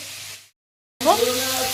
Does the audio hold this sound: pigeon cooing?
no